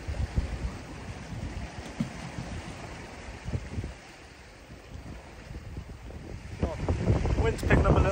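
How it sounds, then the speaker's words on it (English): Wind gusting across a rocky Pembrokeshire sea shore during shore fishing, a steady broadband rush buffeting the microphone with low rumbling, easing briefly then rising stronger toward the end, with waves faintly underneath. "Wind's picking up a little bit now."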